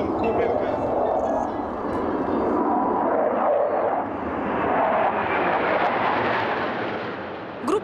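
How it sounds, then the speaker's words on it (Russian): Five Su-27 fighter jets of the Russian Knights aerobatic team roar overhead during an air show at Kubinka airfield, a loud, continuous broadband jet rumble that swells and eases for the whole stretch. "Воздушные асы в составе пяти боевых истребителей Су-27 продемонстрировали традиционный высший групповой и индивидуальный пилотаж."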